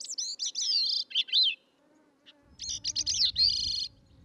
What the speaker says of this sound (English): And the answer is C, gray-cheeked thrush.